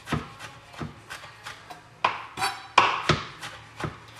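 A kitchen knife chops fresh ginger by hand on a cutting board, with steady rhythmic knocks at roughly three per second, close and crisp, each stroke followed by a short scraping rub.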